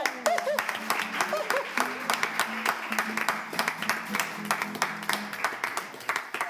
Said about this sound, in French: On applaudit Manu.